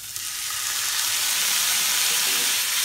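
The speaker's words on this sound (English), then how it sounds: "Okay, splash of water." A splash of water hits a hot pan of frying spices for a bhaji, bursting into a loud, continuous hissing sizzle that holds steady, close by with no talk.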